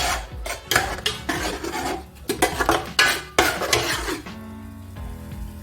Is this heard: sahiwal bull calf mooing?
no